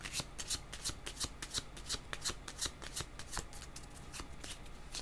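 Tarot cards being shuffled by hand, a quick, regular run of crisp riffling flicks, close and fairly quiet, with no talking.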